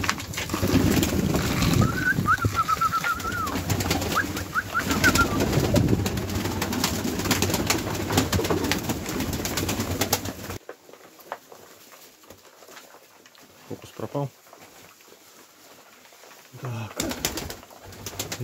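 Iranian fighting pigeons coo softly amid rustling and flapping in a busy enclosure, then the sound drops to quieter scattered movements and occasional low coos.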